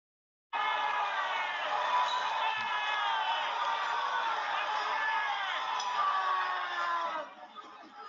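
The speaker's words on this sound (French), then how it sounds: "Mais écoutez la foule" A crowd of protesters at a May Day protest in France, 2023, shouts en masse. The dense wall of raised voices starts abruptly and holds steady for about seven seconds before thinning out.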